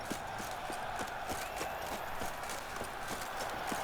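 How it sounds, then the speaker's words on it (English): Horse hooves clip-clopping in the video game The Witcher 3, a steady, even, rhythmic trot of distinct hoofbeats over a bright, continuous background ambience. "We're gonna try to drive a drunken horse through here."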